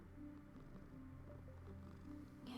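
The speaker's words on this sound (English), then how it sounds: "You guys hear him purring?" A pet cat, a fluffy male about four years old, purrs at home in a steady low rumbling drone, close but soft, with no talking over it.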